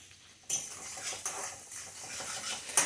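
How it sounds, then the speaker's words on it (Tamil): Onions sautéing in a pan as a home-cooked rasam and curry meal is made, with a spoon scraping and stirring in a few sharp strokes over a soft, steady sizzle. "வெங்காயம் வதக்கட்டும் பார்க்கலாம்."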